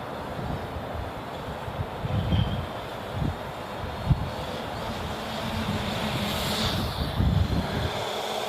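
Gusty wind blows outdoors around a hovering drone, a broad rushing noise buffeting the microphone with a few louder thumps, no voices.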